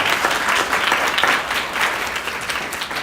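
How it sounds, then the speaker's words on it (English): Audience applause for hospital department staff at a family medicine graduation ceremony, a steady dense clapping from a crowd that holds evenly throughout without any speech over it. "So again, if you will clap for them."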